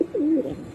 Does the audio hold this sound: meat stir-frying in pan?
no